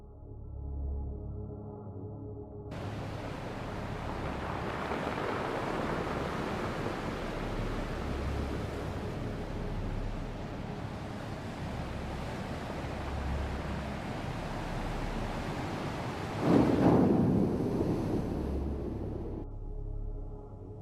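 Steady ocean waves washing in a continuous broad roar, fairly loud and unbroken, with a slightly stronger surge near the end.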